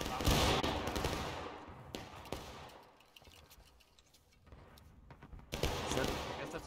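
A company rifle volley in the Civil War shooter War of Rights, a burst of sharp overlapping musket shots at the start and again near the end, with a quieter stretch between and voices talking over it.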